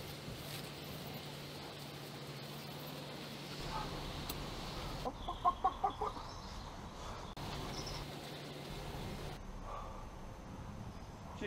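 Chickens in a poultry pen give a quick run of soft clucks midway through, set against a low, constant outdoor background that shifts a few times.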